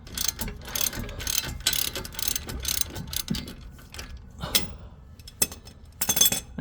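Ratchet wrench clicking on 17 mm bolts while removing a car's suspension strut during an air ride suspension install, with rapid ratcheting bursts and clinks of metal nearby and no talking.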